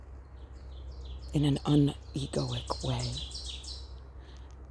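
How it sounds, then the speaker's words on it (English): A forest songbird, the ovenbird, calls in a few quick rising chirps behind a close voice talking, set against a low steady outdoor hum. "That's an oven bird call."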